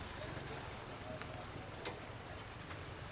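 A heavy, constant downpour soaks the area around a small snack stall selling fried banana maruya, with a broad, unbroken hiss and occasional sharper drop splashes nearby.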